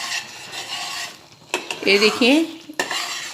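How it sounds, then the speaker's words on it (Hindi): A spoon stirs and scrapes a thickening ginger and sugar mixture cooking in a pan, giving gritty rasping strokes. A voice speaks briefly between the strokes. "ये ऐसे ही हमें चम्मच हिलाते रहने का है।"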